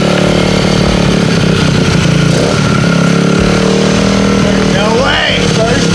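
A 88cc T-Bolt USA engine kit fires up and runs, a loud, buzzing, raspy small two-stroke drone held close throughout, with a brief rev rise near the end and voices exclaiming over it.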